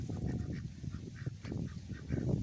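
Backyard poultry, likely geese or ducks, honk and call repeatedly at close range while being fed leaves, with overlapping bursts and no talk.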